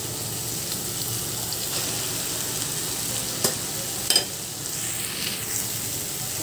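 Minced meat keema stirred as it fries in a pan, a steady broadband sizzle running throughout, with a couple of brief scraping clinks from the spoon near the middle.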